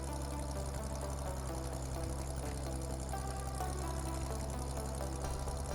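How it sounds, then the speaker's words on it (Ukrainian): Tractor engine in the farming video game Farming Simulator 15, a steady, quiet, continuous mechanical drone with a low rumbling hum and no talk over it. "Якийсь трактор приїхав чи то що."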